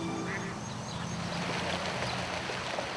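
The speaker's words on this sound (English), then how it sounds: "a swelling duck population, oblivious to the controversy, is only too happy to enjoy the sanctuary" Ducks quacking at a lakeside sanctuary, a steady flock chorus with overlapping calls over a constant background wash, moderately distant and continuous.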